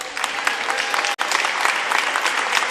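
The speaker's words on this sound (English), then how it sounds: "Gets a well-deserved round of applause." Basketball crowd at a high school playoff semifinal gym applauding an injured senior player, steady loud clapping and cheering filling the space throughout, with one brief sharp dropout partway through.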